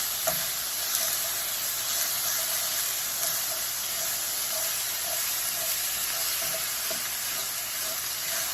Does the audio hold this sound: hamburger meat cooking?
yes